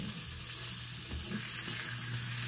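Pork chops sizzle and fry in a hot pan, a steady close crackle with a low stovetop hum and no talking.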